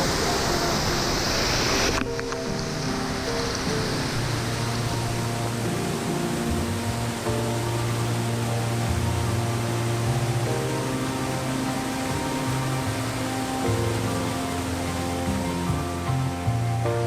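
A waterfall in Brazil sends water rushing in a dense, loud, steady roar that fills the whole stretch, with a brief surge of brighter hiss at the start.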